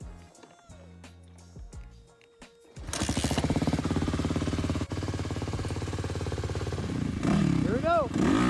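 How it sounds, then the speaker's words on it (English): A 1980 Honda CB 900 stunt bike fitted with a springer front end starts up and revs on a shakedown ride, a steady loud engine drone after quieter clanking, with a high whine toward the end. "I'm gonna go ahead and take this stunt bike on a shakedown ride"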